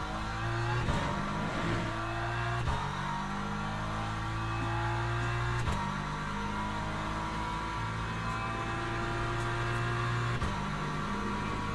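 A BMW race car in Le Mans Ultimate holds a steady, loud engine note for the whole stretch, with gear shifts breaking it roughly every few seconds and the revs climbing again after each one.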